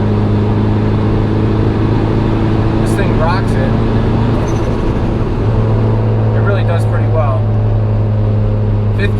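A turbocharged Honda Accord pulls hard in fifth gear, its engine a loud steady drone from inside the cabin that holds throughout, with faint higher whines and bursts riding over it.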